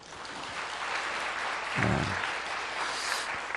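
Church congregation applauding a youth choir, a steady wash of clapping across the room, moderately loud and continuous, with a brief spoken word and a low thump partway through.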